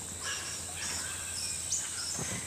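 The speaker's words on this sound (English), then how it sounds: "You can hear the birds and the water, the background sounds" Faint, scattered bird chirps rise over a soft wash of running water at a quiet Buddhist retreat, the whole scene distant and low in level.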